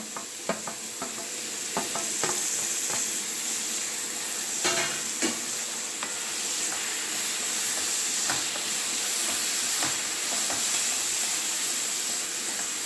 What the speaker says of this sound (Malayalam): ഇനി ഇതിലേക്ക് നമുക്ക് അരിഞ്ഞു വച്ചിരിക്കുന്ന തക്കാളി ഇട്ട് കൊടുക്കാം.